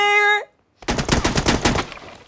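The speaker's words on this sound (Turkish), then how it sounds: "Pompalı çaktım ki." A pump-action shotgun fires in a video game after a short tonal beep and a brief silence, followed by a rapid loud burst of repeated shots with a rattling rhythm.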